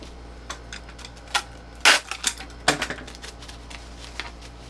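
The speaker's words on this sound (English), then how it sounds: "Do a quick wrap on the Bible. Some bubble wrap." A Bible being wrapped in bubble wrap while packing an eBay order: close, dry crinkling and crackling bursts, with a few louder scrunches among lighter taps and rustles, no talking.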